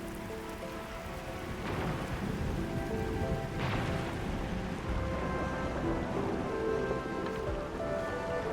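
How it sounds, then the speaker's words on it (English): Steady heavy rain pours in the video game Arknights: Endfield, with a low rumble of thunder rolling through the dense, continuous downpour; no one speaks. "It's raining harder. I can't hear anything except for the rain."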